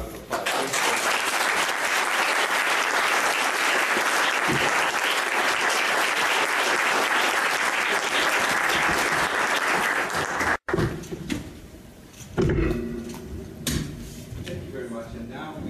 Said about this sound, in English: offer a round of applause